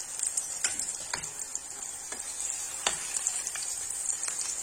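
A potato galette (maakouda) fries in a pan with a soft, steady hiss, broken by a few sharp clicks and scrapes.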